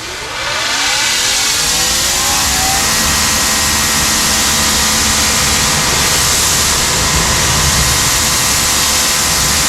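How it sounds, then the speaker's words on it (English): Water rinses a car wheel, heard as a loud, steady, close spray hiss that runs without a break. Faint hollow tonal sweeps sound at the start, and no one speaks. "I'm going to rinse this off."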